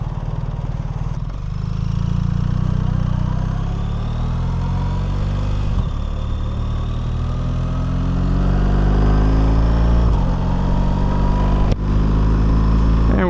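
A 2026 BMW R 1300 RT boxer-twin motorcycle cruising on the road, steady loud engine drone rising and falling through gear changes with wind rush, engine pitch sweeping upward repeatedly as it accelerates.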